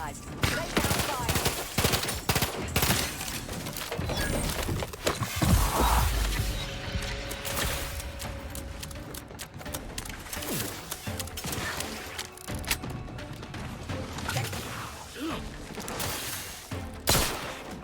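Gunfire from a jumpy, hip-fired gun in The Outer Worlds 2 game: dense, continuous bursts of rapid shots and impacts, loud and close, running almost without pause over busy game noise.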